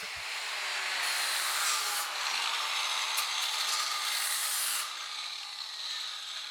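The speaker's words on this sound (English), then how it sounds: "they were clamped together and then cleaned up with the grinder" An angle grinder cleans up steel front bumper brackets clamped together for a Jeep XJ Cherokee, giving a steady, loud, broadband grinding hiss that runs unbroken for several seconds, with no talk.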